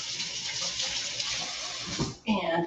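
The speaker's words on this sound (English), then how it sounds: "And washing hands usually helps, or washing gloves as it were." Hands, or gloved hands, rinsed under a running kitchen tap while preparing salmon, a steady broad gush of water that breaks off briefly and then resumes with splashing.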